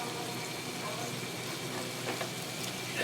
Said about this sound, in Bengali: মুরগিটা আমি ডাইরেক্ট দিয়ে দিতেছি,